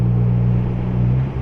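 A 2023 Ford Bronco Heritage with the 2.3L EcoBoost and a FlowMaster FlowFX muffler gives off a steady, low, mellow exhaust drone at an even idle-like pitch that dips slightly near the end.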